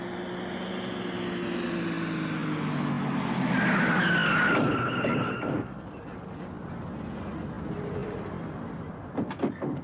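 A car revs and speeds away with a loud tire squeal and skid, the engine pitch rising and then fading, followed by a few sharp clunks and knocks, as a dramatic film sound effect.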